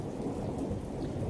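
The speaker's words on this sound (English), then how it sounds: "The storm is here." Heavy rain pours steadily with a deep rumble of thunder underneath, a dense, continuous storm wash with no voices.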